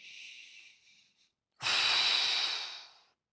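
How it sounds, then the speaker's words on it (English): A deep inhale during a wall stack posture exercise: a soft airy breath, a brief pause, then a long loud whooshing breath through the mouth lasting over a second, close to the mic and alone. "So you're breathing in."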